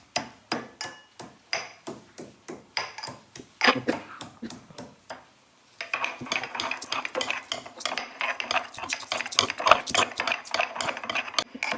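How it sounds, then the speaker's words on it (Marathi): A mortar and pestle grinds ingredients, first with a series of separate sharp pounding knocks, then after a brief pause with rapid, continuous scraping and clattering strokes. "आता आपण खलबत्त्यात टाकलंय आणि आता आपण बारीक करणार आहे."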